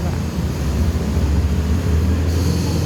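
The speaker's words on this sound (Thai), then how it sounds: "รถไฟเรา" A train rolls past on a flooded track in Bangkok, a loud, steady low rumble with a broad roar on top that holds through the whole stretch, close by and unbroken.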